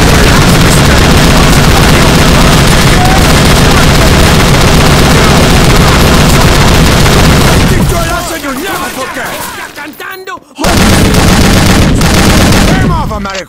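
Rapid automatic gunfire from Scarface: The World Is Yours, loud and dense bursts for about eight seconds, then thinning to scattered shots and clatter before a short silence and a renewed loud volley.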